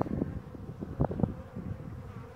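Steady hum of honey bees around an open hive during a spring frame inspection, with individual buzzes swelling as bees fly near, over faint wind rumble.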